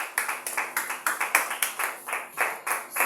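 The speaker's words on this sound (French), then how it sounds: "Levons-nous et donnons de fortes acclamations à notre Seigneur Jésus-Christ." A church congregation claps in unison, a steady rhythmic beat of sharp, bright hand claps about three per second, with no cheering or voices standing out.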